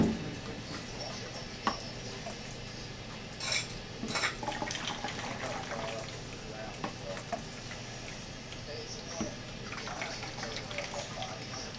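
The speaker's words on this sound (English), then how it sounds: "One more small scoop." Duck stock scooped from a pot into a container, with faint clinks of a ladle against metal and soft liquid pours over a low kitchen hum, a few sharper knocks standing out.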